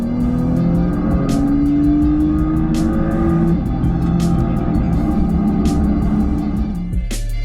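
Porsche 911 Carrera 4S Cabriolet engine revving hard and loud up close, a sustained high-pitched snarl with rising pitch sweeps and a brief lift near the end, no talk over it.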